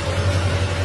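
A car engine idles with a steady low rumble and a constant hum, close and fairly loud, and no voices are heard.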